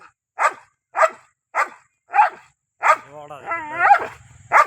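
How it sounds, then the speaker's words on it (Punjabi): A fierce dog in the jungle barks in a steady string of five sharp, close barks, then breaks into a longer run of whining yelps and a final bark. "ਭਾਈ ਉਹ ਬਹੁਤ ਖਤਰਨਾਕ ਕੁੱਤਾ ਹੈ ਜੰਗਲ ਮਾ"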